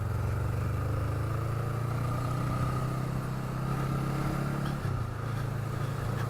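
A Honda Rebel motorcycle engine hums steadily while the bike is ridden around bends, a close, even mid-pitched drone with a brief dip in revs near the end and no talking.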